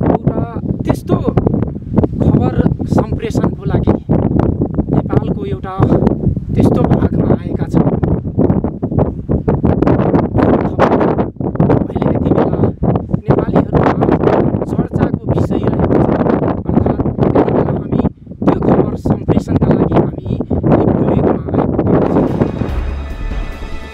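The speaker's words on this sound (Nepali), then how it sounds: "तीव्र वेगमा हावा चलिरहेछ।" Strong wind gusts across a snowy Himalayan mountain pass at Lipulekh, producing loud, buffeting roars and microphone rumble, with someone talking throughout.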